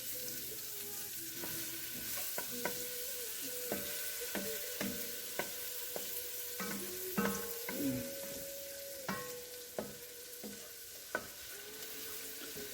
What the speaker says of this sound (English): 4 cloves of garlic. Go ahead and mix that into the butter